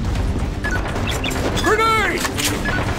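A grenade blast in the Metro Conflict shooter game, a sharp crash and boom amid ongoing gunfire and game effects, with a voice talking over the action.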